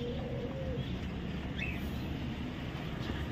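Pigeons coo softly at a bird and fish sale in Dehradun, faint and somewhat distant within a dense, continuous rumble of background noise.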